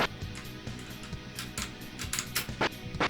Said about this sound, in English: you might hear me tapping away on the keyboard